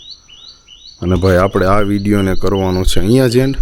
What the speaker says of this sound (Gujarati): જો પક્ષી બોલે છે.